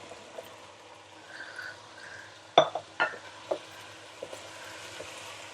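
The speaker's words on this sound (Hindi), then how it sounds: "इसे भी लहसुन अदरक के साथ अच्छी तरह से फ्राई करेंगे" Beef pieces frying with garlic-ginger paste in a pot, a soft steady sizzle with a few sharp clinks of a spoon against the metal near the middle, fairly quiet.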